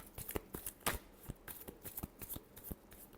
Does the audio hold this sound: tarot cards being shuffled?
yes